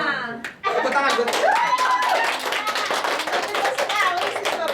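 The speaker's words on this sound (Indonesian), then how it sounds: "Tepuk tangan buat." Students in a classroom clap briefly, a quick patter of hands mixed with overlapping young voices and chatter.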